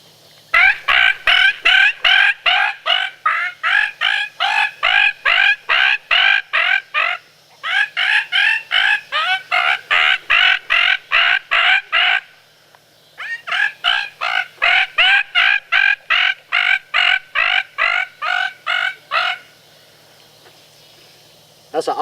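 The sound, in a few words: bird distress predator call on 2-reed fang cut call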